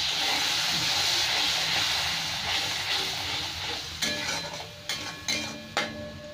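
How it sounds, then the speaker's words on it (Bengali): Water poured into chili masala frying in a pan for a Bengali bata fish curry with eggplant, giving a loud hissing burst of steam that slowly settles, followed by a few sharp stirring clanks near the end. "অল্প একটু জল দিয়ে দেবো, মশলাটা পুড়ে যাচ্ছে, জল দিয়ে কষিয়ে নেব।"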